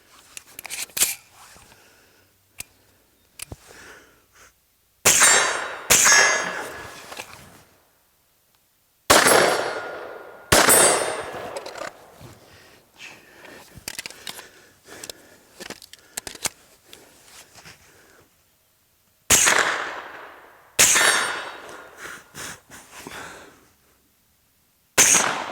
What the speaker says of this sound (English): run through a couple of drills where we just go through and shoot the rifle. Rifle goes down, go to the pistol